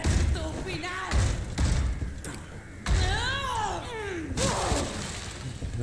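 Smashing window and crashing impacts in Resident Evil 4 Remake: several loud thuds and shattering hits spread over a few seconds, mixed with in-game creaks and groaning voices.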